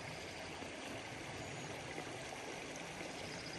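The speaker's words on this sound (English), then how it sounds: "just listen to the gurgling water and just enjoy this insane landscape" Creek water gurgles and rushes along a trail in the Eastern Sierra wilderness, a steady close-up wash of flowing water, continuous and unbroken, with no voices.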